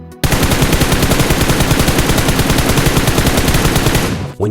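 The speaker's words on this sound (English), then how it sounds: "When you're standing, you can quickly zoom in on the enemy and shoot, but your recoil is significantly high." Sustained rapid automatic gunfire from a standing, zoomed-in position in a shooter video game, a dense continuous burst of shots running loud for about four seconds before cutting off, with a brief final shot at the end.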